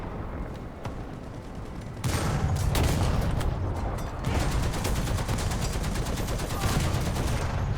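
Sustained .50 cal machine gun fire from an M8 Greyhound in a tank video game, loud rapid bursts of regular shots that stop briefly and then resume. Engine rumble runs underneath, with no speech during the firing.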